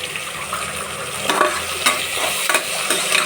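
Onion and green chilli sauté in a hot pan for a vegetable biryani, giving a steady sizzle broken by a few sharp stirring scrapes near the end.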